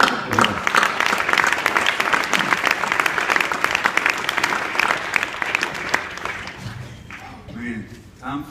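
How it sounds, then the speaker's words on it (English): An audience at a valedictorian speech breaks into sustained applause, dense clapping that carries at full strength for several seconds, then thins out and fades near the end. "So let's give them a round of applause."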